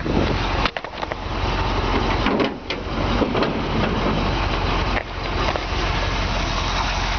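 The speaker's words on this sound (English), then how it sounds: "You can just hear the engine. I mean, it runs great." The engine of a 1952 Ford F1 truck runs steadily at idle, a continuous loud rumble with a few brief dips, no voices over it.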